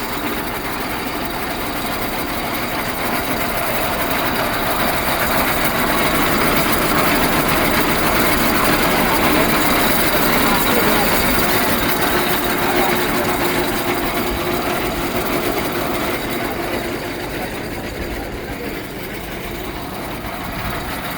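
A heavy-duty tractor winch runs on its gears, giving a continuous, loud mechanical drone with a steady grinding hum that holds evenly throughout.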